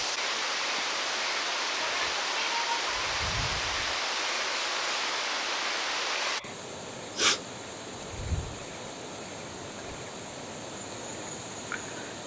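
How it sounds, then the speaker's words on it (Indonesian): Steady roar of a waterfall at Curug Lawe Secepit, a broadband wash that holds constant throughout, briefly stepping down midway, with a few faint low thumps and a short sharp click over it. "suara gemuruh air terjun sudah terdengar sangat jelas"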